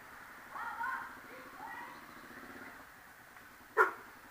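A puppy beside a twisty, misty mountain road in central Vietnam gives a couple of short yips and then one sharp, louder bark near the end, over a low motorcycle engine hum.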